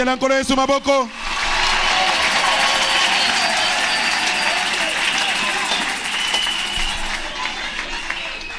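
A church congregation breaks into sustained applause and cheering for Jesus, a dense, loud wash of clapping and voices that starts abruptly after a preacher's speech and holds steadily.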